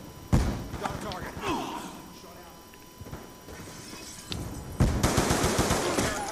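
Rapid automatic gunfire rattles in Black Ops 2 multiplayer, with loud bursts, sharp cracks and impacts of varying distance, while someone talks over the game action.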